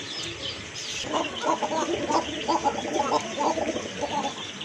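Fancy Rajgolla pigeon chicks call in a loft, with a dense run of soft, repeated chirping and cooing cries close by, rising and falling continuously for a few seconds.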